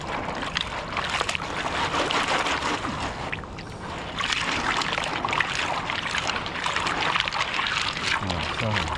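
Pebbles and clay are washed in water in a gold pan after a small flood, making continuous close sloshing, swirling and pouring water with a voice talking over it.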